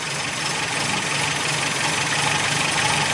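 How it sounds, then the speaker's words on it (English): An MGB car engine idles steadily during carburettor tuning with a Colortune plug as the mixture is weakened, a continuous close, even drone with the revs creeping up slightly, no voices over it. "You should be able to just hear them coming up now"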